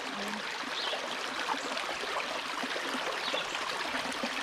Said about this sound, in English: It's a very big creek, and it's very beautiful, clear water.